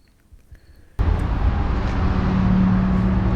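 A Harley-Davidson Sportster with Vance and Hines pipes pulls away after a quiet moment, its engine suddenly loud and steady with road and wind noise close by.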